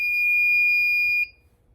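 A fire alarm sounds during a heat detector test in a garage washroom, one loud, steady electronic tone held for just over a second before cutting off abruptly into quiet room noise.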